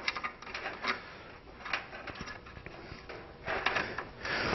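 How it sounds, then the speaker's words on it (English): A flat razor blade scrapes old gasket material off an automatic transmission pan on a Passat, in short irregular rasping strokes, fairly faint and close with no talking. "then we're just going to scrape the old one off"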